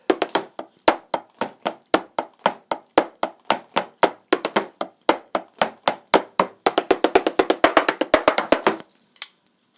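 Sticks tap dry, thin clicks on the rubbery pads of an unpowered Carlsbro digital drum kit in a drum pattern, building to a fast roll near the end, then stopping.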